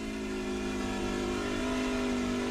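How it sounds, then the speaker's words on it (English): Racing truck engines from an A-Truck series race, a sustained droning roar with steady harmonic tones and a pitch that shifts slightly higher near the end. "Listen to those engines roar."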